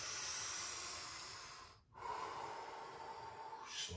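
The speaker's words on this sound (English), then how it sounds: "Again here, big inhale," A long, deep inhale during a home workout, breathy and close, followed by a short pause and another sustained rush of breath, with no talking.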